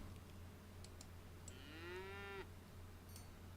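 A cow moos once in the city builder video game Ages of Cataria, a rising then steady bellow lasting about a second, fairly quiet over a low constant hum and a few faint ticks.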